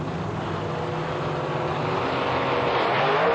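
Drag racing engines roar at the start at a Super Chevy event in Houston, including a 1955 Chevy with a 706-cubic-inch Chevrolet engine, a loud, steady, dense engine roar that builds slightly toward the end with no talk.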